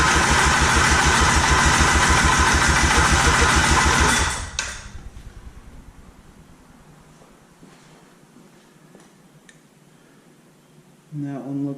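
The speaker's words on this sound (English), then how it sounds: "this starter sounds absolutely terrible. I know, we're getting there. So here we go, cold compression test." A Honda Odyssey FL350 starter cranks the engine for a cold compression test, a loud rhythmic churning that lasts about four seconds and then cuts off, leaving near silence until a brief low rumble at the end.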